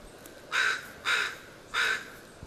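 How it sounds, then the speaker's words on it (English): A crow gives three loud, harsh caws in even succession among massive trees at a foggy campground near Ruby Beach, each call clear and fairly close against quiet surroundings. "Hello, Mr. Crow."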